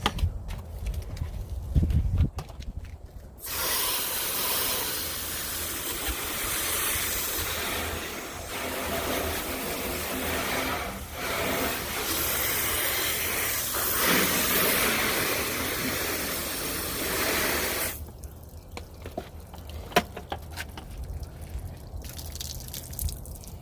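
A pressure spray rinses the upper half of a Camaro SS during exterior detailing, a loud, continuous broadband hiss lasting about fifteen seconds, bracketed by quieter dripping and handling sounds.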